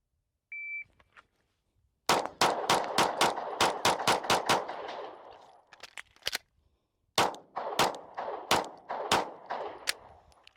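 A timer beep sounds, then a rapid string of sharp pistol shots rings out at training targets, about a dozen in quick succession, a short pause, and a second fast volley, all loud and close.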